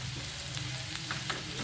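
A paste of garlic, coconut and ginger fries in oil in an iron pot, giving a close, steady sizzle with faint crackles and soft stirring scrapes.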